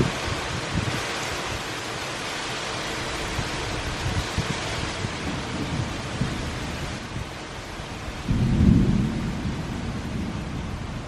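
A thunderstorm with near-constant lightning rumbles with rolling thunder over steady heavy rain, the downpour a dense hiss throughout and a deeper thunder boom swelling near the end, with no voices.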